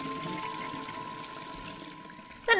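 A toilet flushes in The Darkside Detective game, a steady gurgling rush of pouring water with a faint background hum, ending in a sharper splash.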